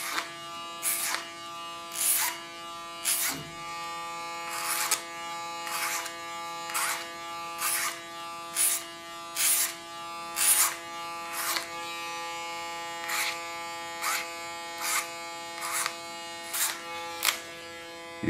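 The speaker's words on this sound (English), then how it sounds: "using my Panasonic clipper." A Panasonic electric hair clipper trimming a dog's coat, a loud steady buzz broken into repeated short strokes, each pass swelling and fading in a regular rhythm.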